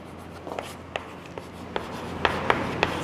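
Pen writing on paper during a class 8 maths lesson on quadrilaterals, heard as a series of short, close scratchy strokes and taps that come quicker toward the end, with no talking.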